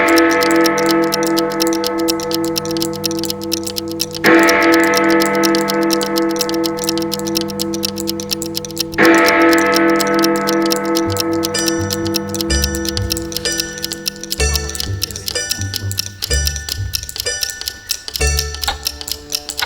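A loud clock tick-tock opens a stage performance of Alice in Wonderland. The steady ticking runs under sustained musical tones that swell at intervals and then break into changing notes toward the end.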